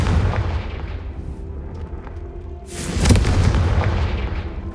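A Confringo fire spell explodes in Hogwarts Legacy with a heavy, booming blast that rises suddenly after a low rumble and lingers loud for a couple of seconds.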